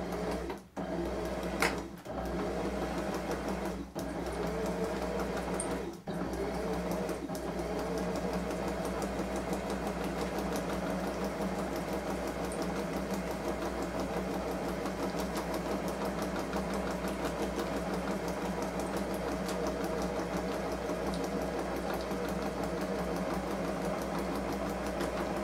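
A sewing machine runs steadily for the whole stretch, its motor humming with a fast, even stitching rattle, close and continuous after a few brief stops at the start.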